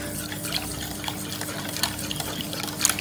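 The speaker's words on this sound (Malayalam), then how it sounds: "ഒരു വിസ്ക് വെച്ച് മിക്സ് ചെയ്യുന്നത് തന്നെയായിരിക്കും കേട്ടോ നല്ലത്" A whisk beats the mishti doi ingredients in a bowl, giving soft wet swishing with light clicks and taps against the sides, steady and close, with no voices.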